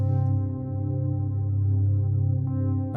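Synthesizer plucks with a wind synth layer form a sustained texture with a low droning layer, holding steadily, smooth and even, with a slight swell near the end.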